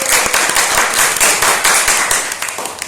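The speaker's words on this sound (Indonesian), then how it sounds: "Tepuk tangan untuk teman kita" Students in a class clap for a classmate, a dense, lively burst of many hands close by, sustained and fairly loud with slight swells, no voices over it.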